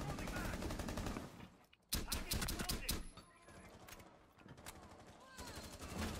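Automatic weapon fire in Terrorist Hunt, bursts of rapid shots rattling in long stretches with a brief gap between them, fairly distant and muffled, with a faint voice at times underneath.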